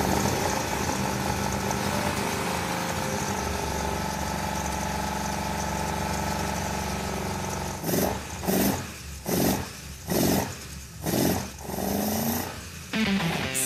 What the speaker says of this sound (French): Le moteur répond à l'appel du pied